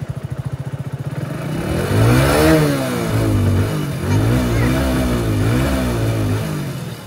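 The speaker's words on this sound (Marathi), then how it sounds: "आता तशी गाडी चालू झाली" On a fishing outing, a vehicle engine turns over with rapid chugging, catches, and then revs up and down in several loud, rising and falling surges close by.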